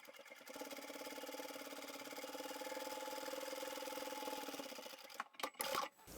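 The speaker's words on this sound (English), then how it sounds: "Let's go sew it up." A sewing machine stitching a cushion cover, running in a steady fast mechanical whir for about five seconds, then stopping, followed by a few brief handling knocks, close and quiet.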